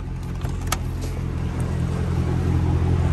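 A Cadillac CTS-V with a supercharger pulley tune revs on a dyno, its engine a deep, steady rumble building in intensity, loud and close, with a few faint metallic clinks early on.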